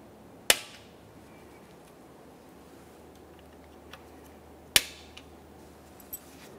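Radiator mounting clips on a 1994-1997 Honda Accord 2.2L snap into position during a radiator replacement: two sharp, distinct clicks a few seconds apart, with fainter small taps between them against a quiet background.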